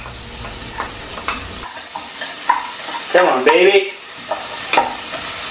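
Chopped garlic and onion sizzling in a frying pan for a Filipino chicken tinola, with repeated stirring scrapes over a steady fry hiss, close and fairly loud; a brief spoken phrase is heard.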